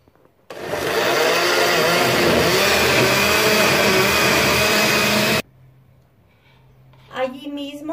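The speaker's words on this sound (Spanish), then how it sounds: "Ya una vez puesto lo vamos a moler todo junto." A kitchen blender grinds tomatoes, chile and onion in a loud, steady whir for about five seconds, then cuts off abruptly, leaving a faint hum before a voice starts talking.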